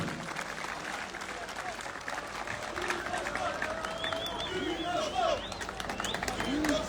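Applause from the crowd at a football club's season-opening gala in Adana, a soft, continuous wash of clapping with voices and chatter mixed in, fairly distant.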